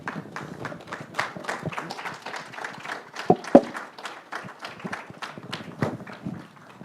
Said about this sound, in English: The applause going, even as they stand to take a group picture